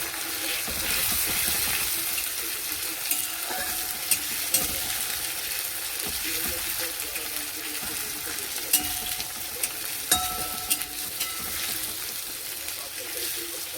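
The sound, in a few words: ginger and garlic paste frying in oil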